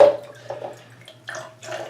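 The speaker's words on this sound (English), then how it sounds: "put a little water on the face here" Water splashes and drips while a shaving brush is wetted, a few short close wet bursts spread across a brief moment with a quiet background between them.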